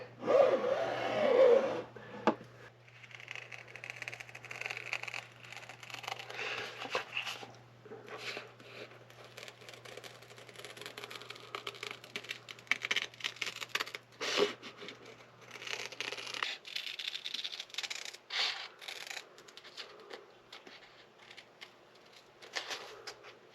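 Dacron sailcloth for a Mirror dinghy jib is cut out by hand, with scattered crisp snips, rustling and crinkling of the stiff fabric, close and fairly quiet, and a low steady hum in the background for the first part.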